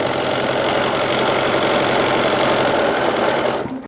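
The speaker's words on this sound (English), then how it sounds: "So I am currently sewing up this outer edge." A sewing machine stitches the outer edge of a denim shirt at a 5/8 seam, a steady, loud, continuous mechanical whir running for nearly four seconds before cutting off abruptly at the end.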